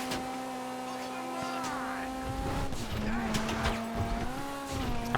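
Car engine in GTA Online humming steadily as the vehicle swerves around police roadblocks, pitch dipping and climbing with brief clatter and tire noise, under someone talking.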